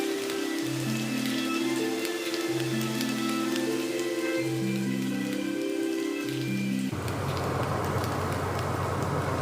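Steady rainfall pours down outdoors at night, a constant hiss that runs unbroken throughout, first beneath a low, droning tonal sound that then gives way to louder, fuller rain noise, with no voices.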